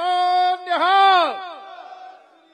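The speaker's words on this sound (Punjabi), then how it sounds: "ਮੈਂ ਇੱਕ ਜਕਾਰਾ ਲਾਵਾਂਗਾ ਸਾਰਿਆਂ ਨੇ ਦੋਵੇਂ ਹੱਥ ਖੜੇ ਕਰਕੇ" A rally crowd of Sikh supporters at a Punjab election rally roars back a jakara war cry, a loud massed chorus of voices swelling and falling in one long sustained shout that trails off into scattered cheers.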